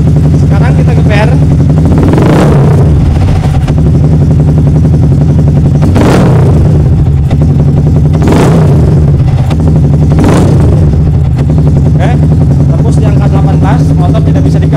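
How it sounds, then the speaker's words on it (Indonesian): A Yamaha R15 motorcycle with an over-voltage charging fault and a blinking MIL lamp is revved in a workshop, with several loud throttle blips rising over a steady idle while someone talks throughout. "Sekarang kita geber."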